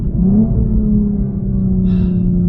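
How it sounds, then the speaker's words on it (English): A BMW 240i's exhaust burbling and gurgling as the car steps down through the gears, a loud, close, low rumble with a brief crackle near the end and no talk. "step down through the gears and you can actually even get it to burble a little bit"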